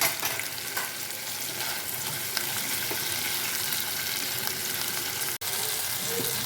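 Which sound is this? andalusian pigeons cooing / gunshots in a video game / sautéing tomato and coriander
sautéing tomato and coriander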